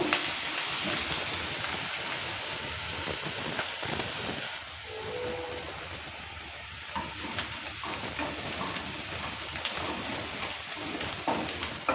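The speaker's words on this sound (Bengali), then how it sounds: "যতক্ষণ লাল লাল করে কালারটা না আসে ততক্ষণ অবধি ভালো করে নেড়ে চেড়ে নিয়ে ভেজে নেব" Chopped onion and garlic fry in oil in a pan, giving a steady hissing sizzle throughout, with the sound dipping briefly as the food is stirred.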